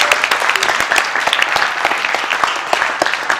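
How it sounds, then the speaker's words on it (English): Church congregation clapping their hands together, a dense, continuous burst of many claps close by, with a few individual claps standing out sharply above the steady patter. "Give him a hand clap"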